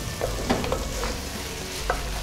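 Sautéed onion, carrot and celery are stirred in an iron pot, a steady sizzle running throughout with a few soft scraping clicks of the spoon.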